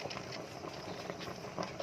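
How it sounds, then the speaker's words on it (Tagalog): Steady bubbling and hissing of water at a rolling boil, continuous and close, with faint clinks and movement in the background. "kumukulo kumukulo"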